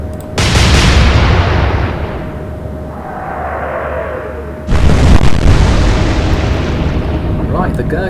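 Two heavy, booming warship gun salvos in the naval strategy game Atlantic Fleet, each a loud, deep blast followed by a long rumbling decay, the second arriving about four seconds after the first.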